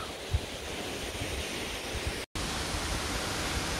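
Steady, broad roar of the large Cachoeira Casca D'anta waterfall heard from its lower section in misty conditions, constant and enveloping with wind buffeting the microphone and a brief dropout partway through.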